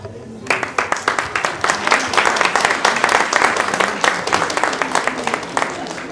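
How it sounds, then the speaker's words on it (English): An audience at an annual children's event claps loudly in a lively, uneven rhythm after a brief quiet start, the applause sustained and close. "One round of applause, please."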